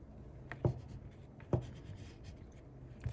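A marker or pen scratching on paper while making a vision board, with a few sharp, close strokes and soft rubbing between them, quiet and alone.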